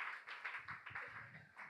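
A church congregation claps in praise of Jesus, quick rhythmic hand claps from many people together, moderately loud, with faint voices mixed in.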